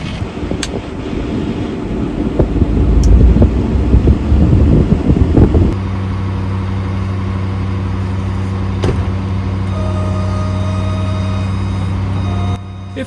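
A 2012 Ford F550 4x4 knuckle boom truck with a Fassi F50 crane running nearby: a loud, rough diesel rumble that shifts partway through into a steady, smoother hum with tonal whine.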